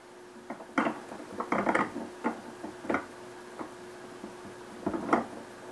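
A screw eye being turned onto a Cannon Mag 10 STX downrigger gives a series of small, sharp metallic clicks and ratchet-like ticks, irregularly spaced and close, over a faint steady hum.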